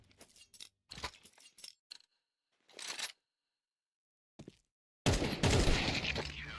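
Gunfire rings out in a competitive video game match: sparse single shots and short clusters early on, then a sustained loud burst of rapid fire in the final second and a half, with no talk.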